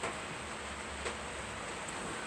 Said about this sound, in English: You can hear that rain out there.